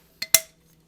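Two quick, bright clinks as lids are set onto whisky tasting glasses, the second slightly louder, ringing briefly in a quiet room.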